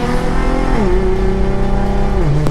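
An Infiniti G37 sedan with a VR30 transmission swap revs at half throttle, a loud steady engine drone whose pitch rises, holds, then climbs again as it stays close throughout.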